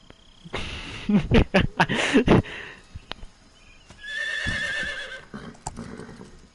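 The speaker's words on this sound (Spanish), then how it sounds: "Ahí va un caballo." A horse in the video game Metal Gear Solid 3 gives a loud whinny, preceded by a quick run of sharp hoof clops, with a few isolated knocks after it.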